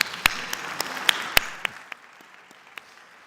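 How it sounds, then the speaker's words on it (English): Scattered applause for the panelists at an energy conference session, with a few distinct loud claps that thin out to faint, sparse claps. "please give a round of applause to our panelists"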